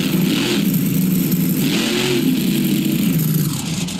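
A monster truck engine in BeamNG Drive revs steadily and loudly for the whole stretch, a continuous mid-pitched roar with rising and falling surges and no talk over it.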